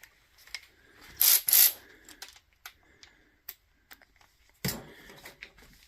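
Kimo ratchet working on a Predator 212cc Hemi generator, scattered mechanical clicks and short ratcheting bursts with clanks and pauses, close by and intermittent.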